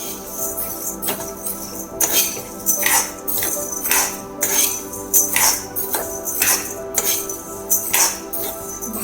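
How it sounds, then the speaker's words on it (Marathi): Toor dal, rice and urad dal dry-roasting in a pan for homemade sambar premix powder, stirred in a series of rhythmic scraping, rattling strokes roughly every second, close and moderately loud. "तुरीची डाळ, थोडेसे तांदूळ, उडदाची डाळ भाजून घेऊयात."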